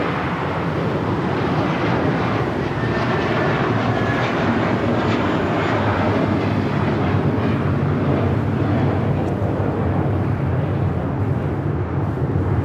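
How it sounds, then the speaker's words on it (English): American Airlines Airbus A321 taking off at Los Angeles airport, a broad steady engine rumble and roar filling the clip at constant loudness, heard from a distance with no talk. "That is American Airlines 2869 taking off in the A321"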